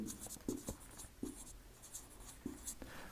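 Faint scratchy strokes come from writing on a board during a chemistry lecture, in short irregular bursts with brief pauses between them, quiet and close.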